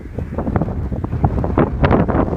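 Strong wind blows outdoors on a frozen lake by a fishing hut at the sunken island, buffeting the microphone in loud, gusty low rumbles for a few seconds.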